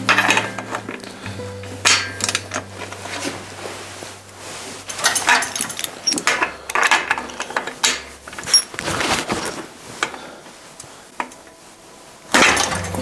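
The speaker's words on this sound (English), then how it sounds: "Switch to my smaller ratchet here." A small hand ratchet clicks in short irregular bursts while working on a vintage Trek 950 ATB bicycle part, close and fairly loud, with scattered metallic knocks between bursts.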